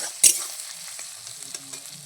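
Chilli cauliflower pieces frying and being stirred in hot oil, a steady close sizzle with a sharp scrape of the utensil near the start and softer stirring clinks after.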